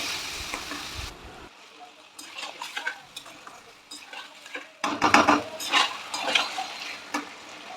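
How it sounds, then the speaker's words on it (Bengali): Bombay duck fish is stirred in frying spices in a pan, a close sizzle with irregular scraping clinks of a spatula against the metal, growing busier toward the end. "মশলাগুলো ভেজে নিয়ে এই যে মাছটাকে দিয়ে দিয়েছি এবার মাছটা ভালো করে নাড়িয়ে চালিয়ে মশলাগুলো মাখিয়ে দিলাম"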